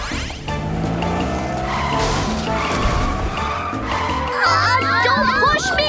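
Cartoon car driving with its engine roaring and tires skidding and squealing, loud and continuous, with a sharp warbling screech near the end and children's voices mixed in.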